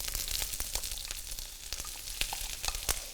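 An onion sizzles and crackles steadily in melted coconut oil in a hot pan, with a continuous close hiss and scattered sharp pops and no voices.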